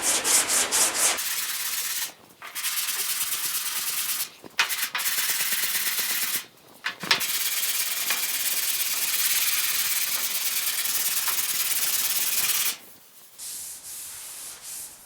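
Body filler on a GTO car door is hand sanded with a sanding block, making loud, sustained rasping strokes broken by a few short pauses, with no voices.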